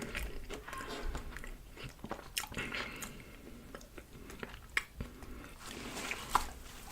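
Burger King food bitten and chewed up close for a mukbang, continuous wet, squishy chewing with a few sharper crunchy bites, intimate and fairly quiet.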